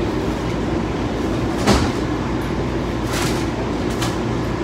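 A train starting to move, with a steady low rumble and rolling rail noise, plus a few brief sharp hisses or clanks, fairly close and without talk.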